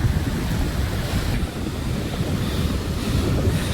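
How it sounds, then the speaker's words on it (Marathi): Sea waves and surf rolling continuously at a prawn-fishing spot on the Indian coast, a steady loud wash of water mixed with wind buffeting the microphone, no voices. "लाटा खूप लाटा आहेत"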